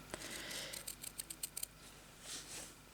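Scissors snip through a paper picture, a quick run of about eight crisp, close cuts in steady rhythm, then quieter rustling of the paper as it is handled.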